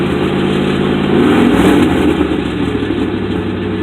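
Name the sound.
1967 Ford Thunderbird engine idling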